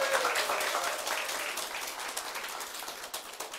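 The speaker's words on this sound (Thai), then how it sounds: "ปรบมือดังๆให้กับส.ส." An audience applauds a member of parliament at a Move Forward party rally, a dense wash of clapping that is loud at first and slowly thins.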